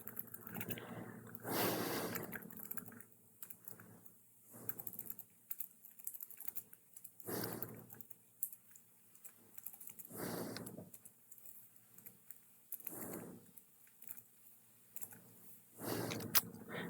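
Keys on a computer keyboard are typed in short bursts of soft, quick clicks with pauses between them, faint and close, and a little quiet talking.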